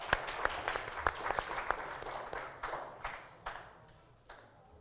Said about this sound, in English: Let's give it up for a round of applause again.